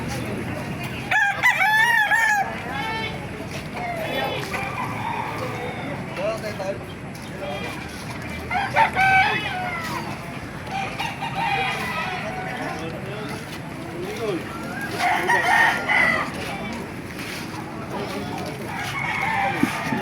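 Roosters crow repeatedly at a moderate distance in Baliwag, their calls rising over a busy outdoor background with people talking.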